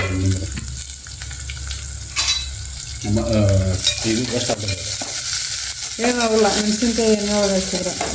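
Onion and green chillies frying and being stirred in a pan for a dill leaf (sabbasige soppu) palya, with a steady close sizzle broken by scraping stirs throughout and no talk.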